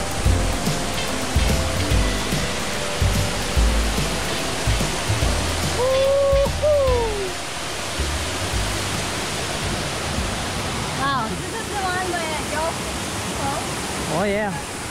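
The bottom waterfall at Kaau Crater in Hawaii roars as a dense, steady rush of falling water, loud and close, with brief voices and whoops rising over it.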